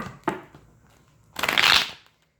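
A deck of cards is shuffled nearby: a quick riffle flick, then a longer, louder riffle that ends cleanly in silence.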